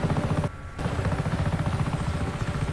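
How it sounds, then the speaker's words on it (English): A helicopter in the video game Just Cause 3 gives a loud, rapid rotor chop throughout, cut by a brief dip near the start. "This helicopter's about to explode."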